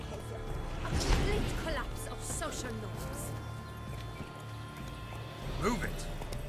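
Horse hooves clip-clop in The Witcher 3 while riding through gardens in Toussaint, a steady rhythm mixed with game ambience and speech-like voices over the top.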